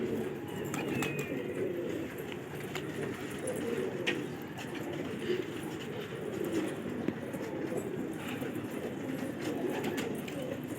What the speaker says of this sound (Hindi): ये नोनू भाई के कबूतर देखें,